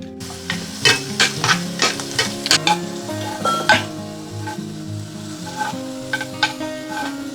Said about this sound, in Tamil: இங்கே நம்ம பாயசத்துக்கு வந்து முந்திரியும் திராட்சையும் வறுத்துக்கலாம்